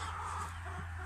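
A hen clucks faintly and briefly over a low steady background hum in a farmyard setting.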